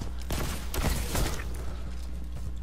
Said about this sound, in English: and he's that's a scout rifle.